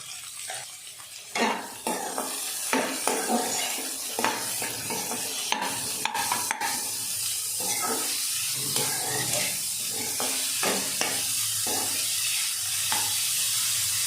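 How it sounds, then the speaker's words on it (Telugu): Sliced onions with curry leaves, green chillies and salt frying in a pan for crab curry, a steady close sizzle with repeated stirring scrapes and a few louder clatters throughout, no talking. "ఆనియన్స్ గోల్డెన్ బ్రౌన్ కలర్ వచ్చే వరకు మనం ఫ్రై చేసుకోవాలి."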